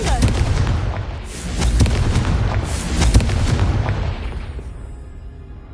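Confringo explosion spell in the Hogwarts Legacy game, loud and close: a dense cluster of booming blasts and crackling bursts fills several seconds before fading into a rumbling tail.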